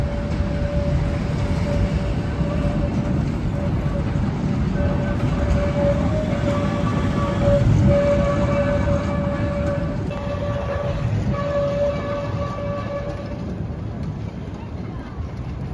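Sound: train passing by

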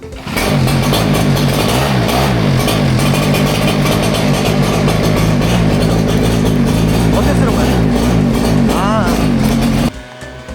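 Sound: engine-powered snow blower running

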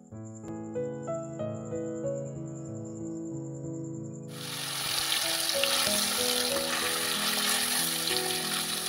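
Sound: meat frying with turmeric and salt

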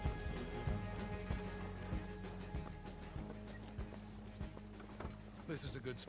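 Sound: horse galloping in video game Red Dead Online

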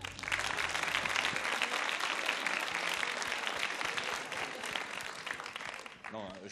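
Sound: audience applauding jury president

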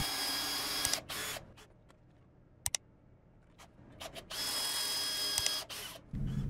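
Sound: drilling dowel holes in wood with a dowel jig

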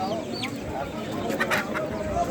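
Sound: breeding roosters

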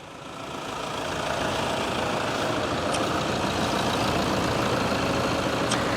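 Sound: Toyota Fortuner 3.0 V (2011) engine idling after start

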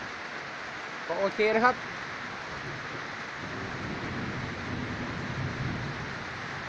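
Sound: rain falling

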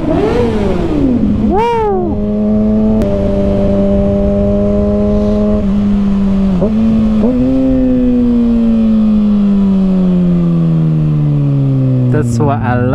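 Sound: 2021 Kawasaki Ninja ZX6R motorcycle engine revving

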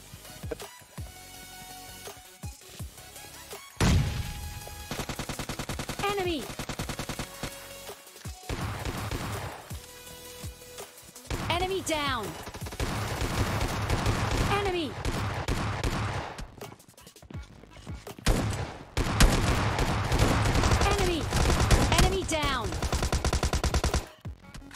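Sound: gunfire, from video game PUBG Mobile Lite

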